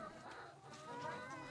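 Chickens on a small farm cluck and murmur faintly within a steady outdoor wash of background noise, distant and low in level.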